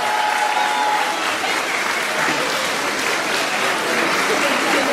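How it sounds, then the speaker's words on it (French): A crowd at the Manga Dax 2017 cosplay contest in France applauds, a loud, continuous wash of many hands clapping that holds steady throughout without letting up. "vous pouvez vous applaudir parce que sans vous, il n'y a pas Mangadax"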